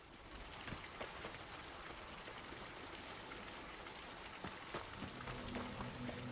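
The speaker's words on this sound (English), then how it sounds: "the rain sounds good and real here" Steady rain falls in the game The Cycle Frontier, a dense, even patter of drops on surfaces with occasional louder splashes and no talking.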